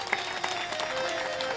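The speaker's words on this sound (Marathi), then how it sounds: "त्या आई वडिलांसाठी एकदा जोरदार टाळ्या वाजवा." Audience applause at a devotional discourse gathering in Maharashtra, a dense, steady wash of many hands clapping at moderate loudness, somewhat distant, lasting the whole moment.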